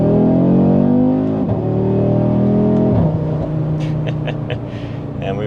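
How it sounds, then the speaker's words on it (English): An Audi RS3 fitted with an upgraded intercooler is driven hard, its engine droning loudly with rising pitch through two gear changes before the note drops and settles, close and dominant. "So we'll drive the car a little bit harder too,"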